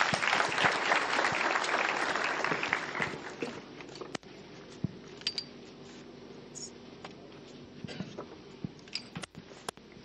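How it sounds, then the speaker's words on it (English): An audience at a foundation launch event applauds to welcome the board chairman, a full burst of clapping for a few seconds that dies away into scattered single claps and small rustles. "Please give him a warm round of applause"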